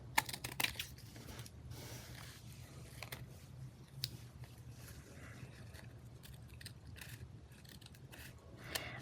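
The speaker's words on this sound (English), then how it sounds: "So I am trimming the edge off." Paper edge being trimmed with scissors during a lace, paper and fabric craft project, a run of quick, close snips and crisp clicks scattered over a quiet background, with no talking.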